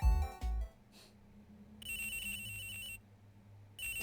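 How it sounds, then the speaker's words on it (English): An electronic phone ringtone chimes in the video game Miles Edgeworth Investigations 2, two bright bursts of ringing separated by a pause, after a few low thuds at the start. "Oh, sorry, that's my phone."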